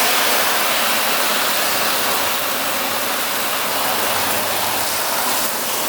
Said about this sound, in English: the first step is literally just fill the bin with water